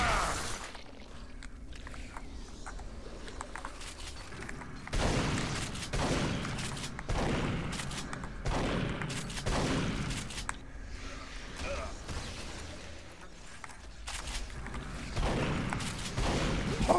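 Enemy gunfire in Duke Nukem Forever rattles toward the player in repeated bursts and volleys, fairly distant and muffled, with impacts and mechanical clatter between shots.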